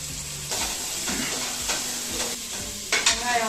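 Onion with ginger and garlic sautés in a pan for banana flower biryani, stirred in repeated scraping strokes over a continuous close sizzle.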